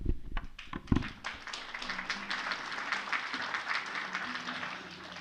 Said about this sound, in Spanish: Vamos a aplaudir y vamos a darles la bienvenida.